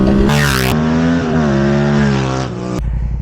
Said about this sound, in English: You feel the grumble of the bike and you rip it